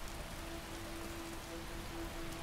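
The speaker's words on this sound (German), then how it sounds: "Mein, dieser Regen." Steady rain and stormy weather in the video game Skyrim, a dense even hiss of falling rain that holds at one level throughout, with no talk over it.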